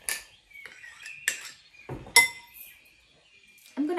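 A spoon scrapes and clinks against a bowl while blue Play-Doh is mixed, giving several separate close taps and scrapes with pauses between them and a light knock at the end.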